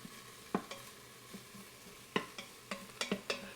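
Garlic and aromatics sizzling in an Instant Pot on the sauté setting, a soft hiss under a series of sharp scraping stirs, roughly eight irregular strokes of a utensil against the pot, close by.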